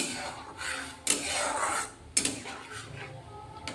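A spatula stirring and scraping thick masala spice paste around a pan for paneer, in intermittent strokes with a few sharp knocks against the pan between longer rubbing sweeps.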